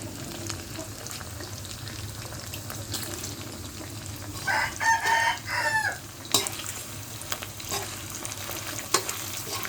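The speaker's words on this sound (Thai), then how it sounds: "ทอดหมูชิ้น หมูชั่วห้อน" Pieces of pork frying in hot oil, a continuous crackling sizzle with stirring scrapes and a few sharp clatters, close and fairly loud with no talk.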